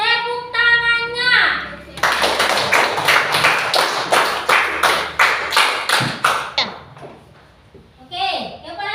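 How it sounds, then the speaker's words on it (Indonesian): Students in a classroom break into rhythmic group clapping after a voice finishes speaking, a loud, close, fairly regular beat of hands that slows and stops before speech resumes. "Tepuk tangannya."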